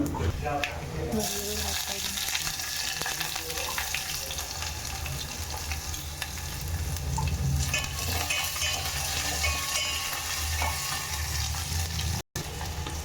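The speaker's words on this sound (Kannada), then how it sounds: "ಈರುಳ್ಳಿ ಹಾಕಿ ಅದನ್ನೊಂದು ಸ್ವಲ್ಪ ಬೆಂದಾದಮೇಲೆ ನೆಕ್ಸ್ಟ್ ಖಾರಕ್ಕೆ ಹಾಕೋಣ." Onions fry in an oil-filled pan at home while being stirred, giving a continuous crackling sizzle with scraping strokes, fairly faint, and a brief dropout near the end.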